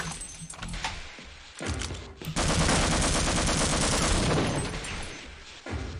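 Video game gunfire, a dense automatic burst that runs unbroken for several seconds after a couple of shorter volleys, loud and close with no voices over it.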